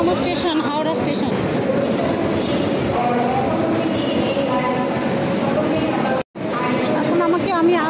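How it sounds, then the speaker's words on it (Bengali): Howrah railway station at its busiest: a loud, continuous wash of crowd chatter and voices mixes with train rumble and rail noise, close and unbroken apart from one momentary dropout. "দেখেছো কত ভিড়? ব্যস্ত স্টেশন, সব থেকে বড় পৃথিবীর ব্যস্ততম স্টেশন হাওড়া স্টেশন"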